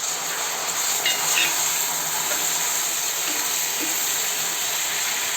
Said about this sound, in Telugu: ఇప్పుడు తరిగిన బెల్లాన్ని లైట్గా మనకి తీగపాకం వచ్చేలాగా పట్టాలి.